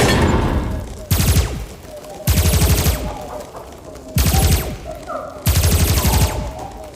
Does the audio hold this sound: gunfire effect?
yes